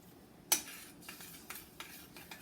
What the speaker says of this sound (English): Let me stir this.